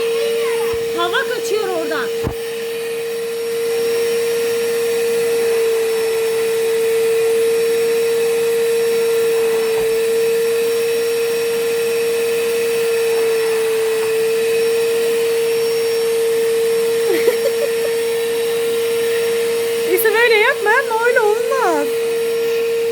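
Household vacuum cleaner running steadily through a house-cleaning session, a loud, constant whining drone close by, with a child's and adult's voices talking briefly over it now and then.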